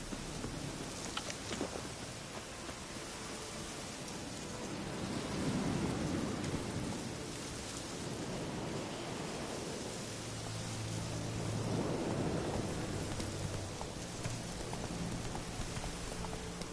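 Heavy rain pours steadily through a thunderstorm, with low rumbles of thunder rolling in the distance and swelling twice; a dense, continuous wash with no voices.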